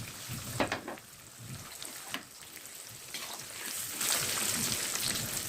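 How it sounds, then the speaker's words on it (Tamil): Raw rice crackles and sizzles as it fries in hot oil for crunchy rice crackers, a dense, steady hiss with small bursts of popping that grows a little louder toward the end, with no talking. "எண்ணெய் சூடானதுக்கு அப்புறமா அரிசியை போட்டு பொரி பண்ணிக்கலாம்"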